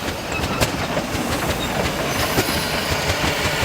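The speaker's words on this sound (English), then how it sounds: "This little Red Devil locomotive was built in 1916 by Andrew Barclay of Kilmarnock, Scotland, for the Umhloti Sugar Company of Natal." The 1916 Andrew Barclay Red Devil, a small Kilmarnock-built steam locomotive made for a Natal sugar company, rolls past with a close, loud, rhythmic clatter of wheels and rail joints and a steady rumble.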